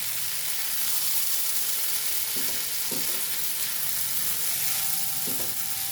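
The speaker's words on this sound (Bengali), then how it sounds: "আর একটু ঘি দিয়ে দিয়েছি, দিয়ে আমি এই সাবুগুলো যে ভিজিয়ে রেখেছিলাম সেগুলো ভালো করে ভেজে নেব" Soaked sago frying in ghee over a low flame, a constant gentle sizzle under a few dull spoon strokes, close and even throughout.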